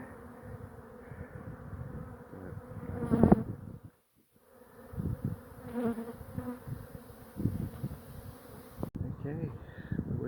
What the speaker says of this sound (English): They've settled down on the stingy front, but I guess that's because there's no more guard bees left.